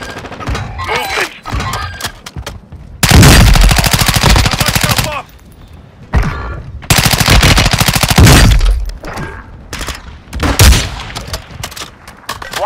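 Rapid machine gun fire in a Call of Duty Warzone Resurgence match on Ashika Island, loud sustained bursts of about three seconds each, with shorter scattered shots and thuds between them and faint voice callouts.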